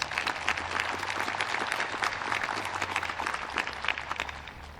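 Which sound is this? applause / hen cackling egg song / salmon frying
applause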